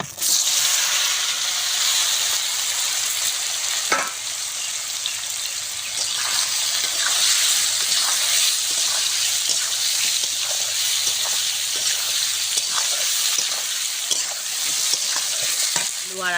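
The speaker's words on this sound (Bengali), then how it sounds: "আলু আর আটিটা ভাজা হয়ে গেছে," Potato and jackfruit seeds frying in oil left over from frying eggs, a close, steady loud sizzle with repeated clatter of a spatula stirring and scraping the pan throughout.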